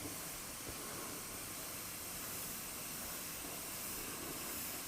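An airbrush spraying paint gives off a steady, even hiss of air that runs without a break, faint and close, with no voices over it.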